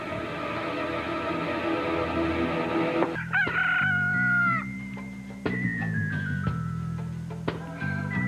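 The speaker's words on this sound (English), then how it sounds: "Every morning with his blasted crowing." A rooster crows loudly and close by in a single long, straining call, sounding over a busy background of tonal noise.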